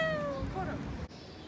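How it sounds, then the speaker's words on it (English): A cat meows once, a clear falling cry close by, on a Mexico vacation, followed by a brief pause and quiet background noise. "There's a cat."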